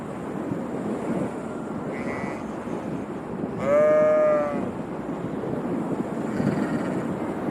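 A sheep bleats once in a short wavering cry, set against steady wind noise that runs throughout, with a fainter bleat or two earlier and later.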